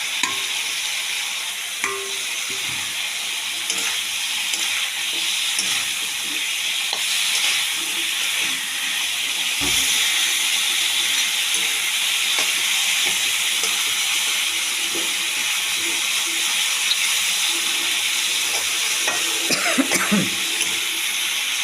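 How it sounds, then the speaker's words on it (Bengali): Fish heads drop into hot oil in a pan and fry with a loud, steady sizzle that fills the whole stretch, broken now and then by soft stirring scrapes and clinks, with no talking. "মাছের মাথা এবার দিয়ে দিচ্ছি মাছের মাথা"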